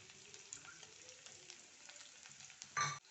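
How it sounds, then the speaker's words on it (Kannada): Chopped onion fries in a tablespoon of oil in a pan for okra sambar, a soft, steady sizzle with light stirring scrapes and a brief louder clatter near the end. "ಸ್ವಲ್ಪ ಫ್ರೈ ಆಗಲಿ."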